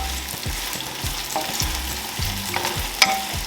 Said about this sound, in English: So you're just gonna mix this around, and you want to cook your onions until they're fairly translucent